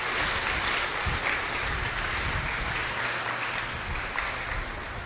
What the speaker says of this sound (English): ahead and start by giving everyone a round of applause